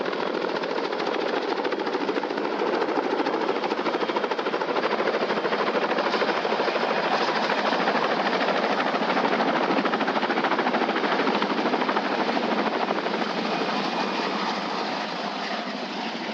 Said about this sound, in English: Oh, that's a gunship, all right.